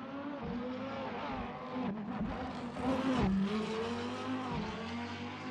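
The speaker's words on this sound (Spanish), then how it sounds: "ahí está Federico Juan Quintero con el Lamborghini" A Lamborghini race car screams up a mountain hill climb course, its engine note sustained and rising through gear changes, loud and close throughout with a brief dip and surge mid-pass.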